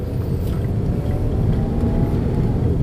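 A Ford Five Hundred with a throttle body problem drives along, its engine a steady low hum under road noise as it responds to gentle throttle, with no talking.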